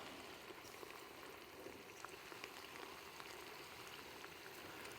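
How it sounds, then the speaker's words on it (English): Ground meat and spices fry in oil in a pot, a faint, steady sizzle with dense crackle and small pops throughout and no voices. "As you can see, it's starting to fry."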